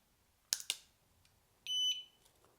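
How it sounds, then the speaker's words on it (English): A Meross smoke detector gives a couple of sharp clicks, then a short, loud, piercing buzz-beep when switched on, close and alone in a quiet room. "the smoke detector makes a very loud buzzing sound. And that means that it's turned on"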